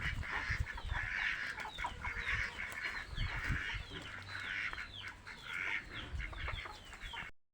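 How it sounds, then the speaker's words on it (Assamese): A flock of backyard chickens and ducks clucks and quacks continuously nearby at a home in Sonitpur, Assam, calling over one another. "আৰু এয়া হাঁহ, এয়া হাঁহো আমাৰে।"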